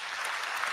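Audience clapping at a talk show, a brief burst of dense applause, fairly near and steady.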